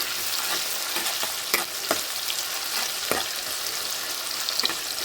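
Mixed vegetables frying in plenty of oil for mixed vegetable fried rice, giving a steady, close, bright sizzle broken by a few sharp spatter pops and light stirring clicks, with no voices.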